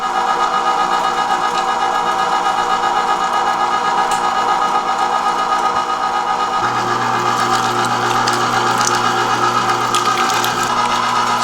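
A meat grinder running venison through its first coarse grind, giving a loud, steady mechanical whir with a constant hum that deepens slightly partway through and continues without pause. No speech.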